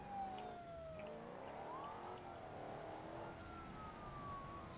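Police car siren in the BeamNG.drive video game, a gliding wail that rises and falls faintly over a steady engine hum, heard alone without talk.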